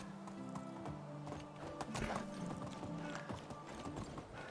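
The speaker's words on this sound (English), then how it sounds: "We'll ride Miss Donkey over here to chop down some more trees." A donkey ridden through a medieval village in the Medieval Dynasty video game, its hooves clip-clopping steadily over a dense bed of game ambience and music.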